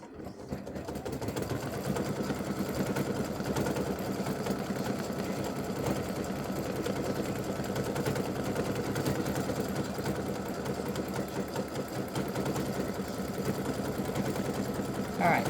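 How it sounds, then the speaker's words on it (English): A computerized embroidery machine stitches a circle and then a satin stitch border on freestanding lace Christmas bow earrings, giving a steady, fast mechanical whir that runs continuously and fairly loud, close by, with no talking. "It will stitch the circle, and then it'll do the satin stitch around the circle before it jumps over to the other one."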